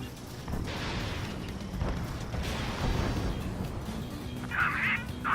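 Missiles launch and explosions boom during an aerial dogfight in the video game Ace Combat 7, a dense run of rumbling blasts and whooshes with a sharper burst near the end.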